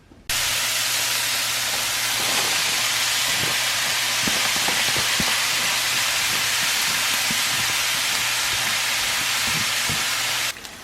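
Sausage frying in a little grease in a pan, close up, with a steady, dense sizzle and scattered small pops and crackles throughout, no voices.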